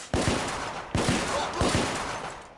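Three heavy gunshots from a gun in the video game The Order: 1886, evenly spaced under a second apart, each a loud sharp crack trailing into a long echoing decay, no voices.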